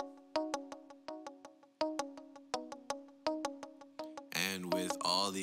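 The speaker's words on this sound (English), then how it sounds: "Little instrument that I added was this muted guitar sound" Muted guitar melody in a pluggnb beat, a quiet run of short plucked notes with quick decay in an even rhythm, followed by a brief burst of denser sound at the end.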